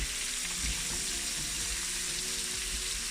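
Onions fry and soften in a pan for rougail saucisse, a steady bright sizzle filling the whole clip with faint low knocks of stirring underneath, close and continuous with no voices.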